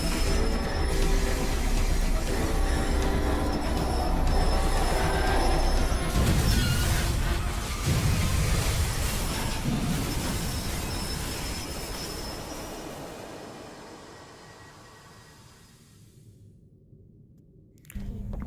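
A train speeding along in the video game Poppy Playtime Chapter 2, a loud continuous rumbling roar that swells and then gradually fades, dropping to near silence before a sudden burst at the very end.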